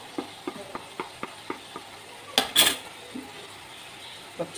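Garlic and ginger paste for egg biryani hits a pan in a home kitchen, giving a short loud hiss and sizzle after a series of soft stirring clicks and utensil taps, with more light scraping afterward.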